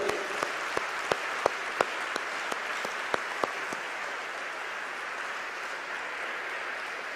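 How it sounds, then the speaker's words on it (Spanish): A church congregation applauds during a sermon, a broad sustained wave of clapping with a few sharp, louder nearby claps standing out early on before it evens off. "Un aplauso al Señor."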